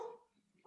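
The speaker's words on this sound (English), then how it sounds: "So sorry about the dogs." A dog barks briefly and faintly in the background during a phone call, with a short yelp at the start and another at the end.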